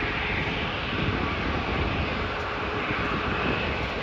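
Boeing 737 MAX jet engines at Ponta Delgada airport give a loud, steady, broadband roar that stays constant at a moderate distance, with no voices.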